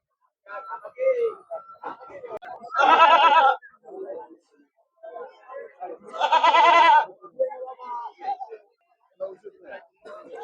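Two loud goat bleats ring out amid steady chatter of people at a busy outdoor goat market in Talegaon Dhamdhere, Maharashtra.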